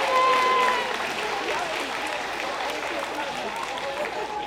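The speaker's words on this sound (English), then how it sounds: "Let's give a big round of applause to all our superheroes." Audience at a school road safety campaign launch applauds, a steady mid-level wash of clapping that peaks at the start and holds evenly, with faint voices mixed in.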